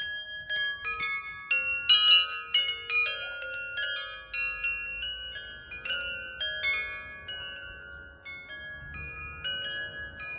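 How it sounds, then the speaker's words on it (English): Wind chimes ringing nearby in a small garden nook with lavender plants, bright metallic tones striking in irregular clusters and sustaining in overlapping, slowly decaying rings. "Here's the wind chimes."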